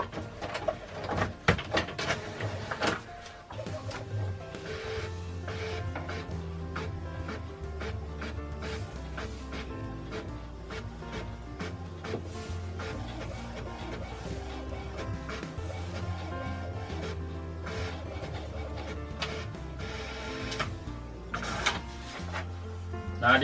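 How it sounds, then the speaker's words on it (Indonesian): An office printer printing a document, with rhythmic mechanical clicks, whirring and feeding sounds running continuously, fairly close, with faint bird cooing in the background. "di sini kita print juga surat dokumen asli"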